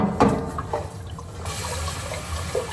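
Raw rice being rinsed in water while cooking stir-fried pork with suki dipping sauce, with splashing and swirling liquid sounds at close range, continuous with small bursts and no voices.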